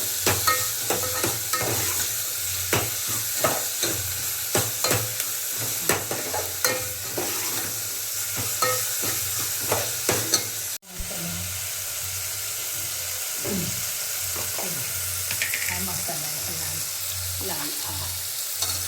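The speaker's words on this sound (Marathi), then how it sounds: "हा टॉमॅटो आहे हे हा याच्यात भाजून घ्यायचा" Tomato roasts in a pan during home cooking, a continuous loud sizzle with frequent scraping stirs close by, then a steadier frying hiss after a sharp knock.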